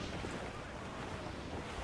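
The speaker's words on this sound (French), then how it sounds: "C'est quoi ce vent?" Strong wind roars across open sea in the Assassin's Creed Black Flag pirate game, a steady, full broadband rush with no breaks and no voices.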